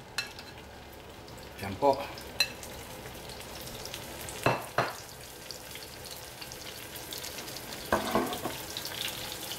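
Eggplant omelette (tortang talong) fries in a pan with a steady soft sizzle, broken by several sharp clicks and clatters. A few brief spoken words come through.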